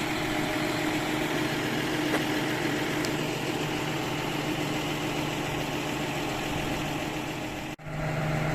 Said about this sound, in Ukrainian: від'єднали трактор, зараз він від'їде